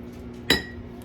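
A frying pan is set down or handled on a stove while meal prep is underway, giving one sharp metallic clink near the mic with a short ring over quiet room noise.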